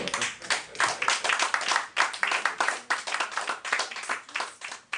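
A small audience at an evening poetry reading claps for a performer: lively, uneven clapping from a modest group, close and bright, with rhythmic bursts lasting the whole stretch.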